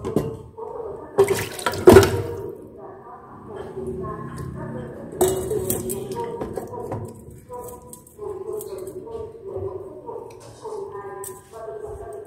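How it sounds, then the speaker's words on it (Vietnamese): Marinated pork is scraped into the pot of an electric rice cooker, with wet slaps, clunks of a utensil on the pot and splashy liquid sounds, a loud knock near the start, while a person talks throughout. "Đây các bạn, sẽ cho thịt vào cái nồi cơm điện này cho mình."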